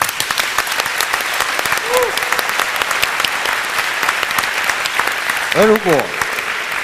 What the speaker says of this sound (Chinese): 真的要给他一个掌声